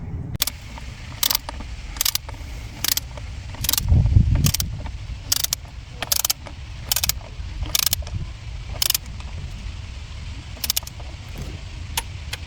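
A ratchet tightens the intake manifold nuts on a BMW E61 530d diesel, 218 hp, giving repeated sharp clicking bursts at a steady rhythm, close and alone with no talk.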